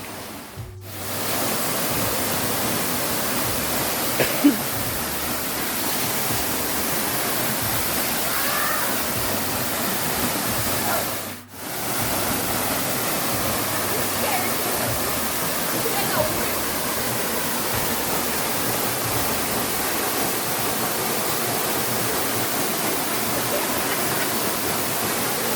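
Toraille waterfall in Soufriere, St Lucia roars as a steady, dense wash of falling water, heard close and loud throughout with no voices over it.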